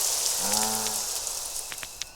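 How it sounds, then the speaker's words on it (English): A steady downpour of rain in the video game Craft The World hisses continuously, with scattered droplet ticks, a soft tonal game sound briefly layered over it. "Is it raining right above me? Yeah, it sure is. And it's a nice little downpour, too."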